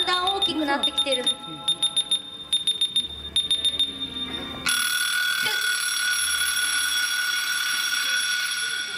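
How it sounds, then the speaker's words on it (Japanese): At a live stage show, a super stopwatch's timer alarm first beeps in quick rhythmic bursts. It then switches to a steady, loud electronic ringing, with voices faintly audible underneath. "スーパーストップウォッチでタイマーをかけておいたのさ。"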